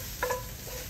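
Brief clinks and scrapes of stirring egg fried rice in a Vermicular oven pot against a steady low hiss, with a couple of light knocks over less than a second.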